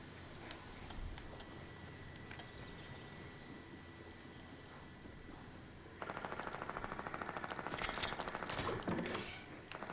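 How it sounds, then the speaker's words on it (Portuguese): Video game gunfire over background rumble, becoming a rapid, steady burst of automatic shots partway through, fairly loud and close. "Tô dando tiro."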